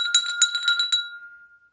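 A university rector rings a hand bell at an academic-year opening ceremony, giving several quick bright clangs in a rapid burst that then fades into a clear lingering ring.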